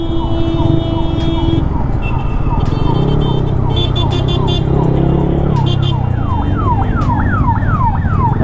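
A wailing ambulance siren sweeps up and down nearby, loud amid busy traffic noise and honking, continuing throughout.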